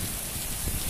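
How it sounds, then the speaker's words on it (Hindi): Heavy rain driven by strong wind pours down in Makkah as a dense, unbroken roar that fills the moment at close range. The hiss stays loud and steady with no gaps, and no voices can be heard. "बहुत तेज़ बारिश हो रही है।"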